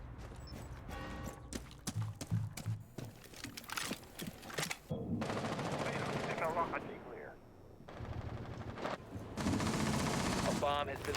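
Rapid bursts of gunfire and sharp breaching charges crack through a competitive Rainbow Six Siege-style tactical shooter match, dense volleys layered with explosions and heavy ambient game noise, with commentary voices talking over the action.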